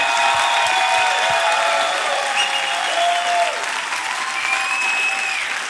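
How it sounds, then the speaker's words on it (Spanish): A church congregation applauds during a sermon, dense and loud clapping that sustains the whole time, while faint tonal sounds drift over the top. "Oye, si le vas a aplaudir, apláudele con todo."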